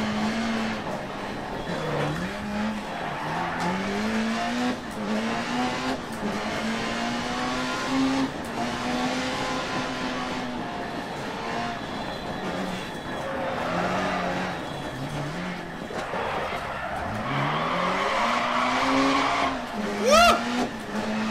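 A rally car in the video game DIRT Rally on the Pikes Peak course roars loudly with its engine rising and falling through gear changes, and tires squeal as it slides through corners, with someone talking over it.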